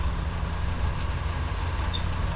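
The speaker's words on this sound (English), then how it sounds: "Look at the trucks." Heavy trucks rumbling past at the Port of Brisbane, a steady low engine drone with road noise, moderately close and continuous, with no talk over it.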